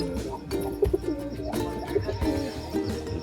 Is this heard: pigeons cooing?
yes